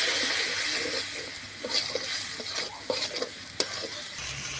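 Ground spices of cumin, garam masala, salt, turmeric and chili being stirred in a hot pan, giving a steady close sizzle with scattered scraping taps of the spoon.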